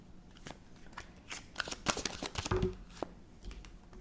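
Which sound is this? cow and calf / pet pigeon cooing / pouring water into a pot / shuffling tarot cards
shuffling tarot cards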